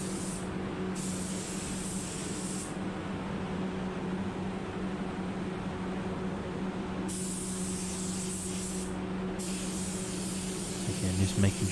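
A spray gun lays a second coat of paint on a new car wing during a smart repair. A close, continuous airy hiss runs for several seconds, briefly dipping in a few places as the trigger eases.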